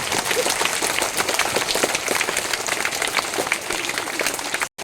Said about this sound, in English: Give them huge round of applause.